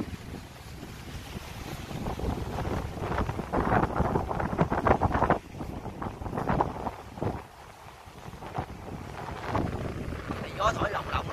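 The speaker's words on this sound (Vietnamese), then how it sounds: "Gió thổi lồng lộng luôn á, gió thổi lồng lộng luôn" Strong wind gusting over a rocky cliff top above a drop, roaring and buffeting the microphone in loud surges, with a person talking over it throughout.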